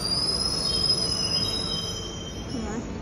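A metro train at Botanical Garden metro station in Noida runs with a steady rumble and a sharp, sustained high wheel squeal throughout, fairly close and without talk.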